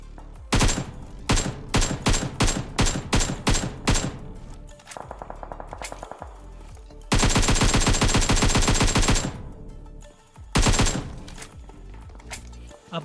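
Bursts of automatic gunfire from the mobile battle royale game PUBG Mobile come in rapid volleys: several short clustered shots, then a long sustained burst and a final flurry, loud and close.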